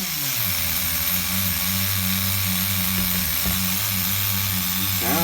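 A single-stage-tuned HPI RS4 nitro RC car engine, the F150 body, idles steadily on a bench with a constant buzzing drone, close and loud throughout.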